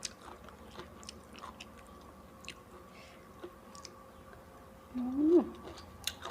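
Someone chews nam prik kapi shrimp-paste chili dip with fried cha-om egg and boiled bamboo shoots, making soft, close, moist crunching and munching. Near the end a brief voiced murmur rises over the chewing.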